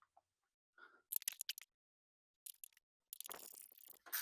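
Several bursts of metallic ratcheting and clicking as a 12mm wrench works a hood bracket bolt loose on a Toyota Tacoma, coming in short, separate spurts with pauses between them, close and fairly quiet.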